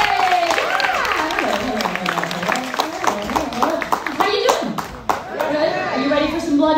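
A live audience claps for the host at a Universal Studios Halloween horror makeup show, loud, dense clapping mixed with cheers, while a voice talks over the top throughout.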